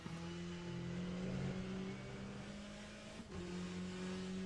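GTE race car in rFactor2 at Monza, its engine droning steadily at high revs through a push lap, with a brief dip and shift near the end; loud, close and continuous, no talking.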